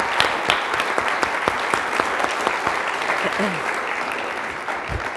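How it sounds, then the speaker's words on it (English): An audience at a university event applauds honoured guests, a steady dense patter of clapping with a few louder individual claps standing out, continuing throughout with a brief voice murmur underneath. "I'd just like to give a round of applause to them"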